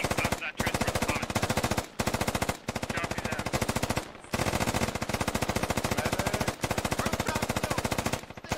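Sustained machine gun fire in the military shooter Squad rattles in long, rapid, loud bursts broken by brief pauses, dominating the scene with little else audible.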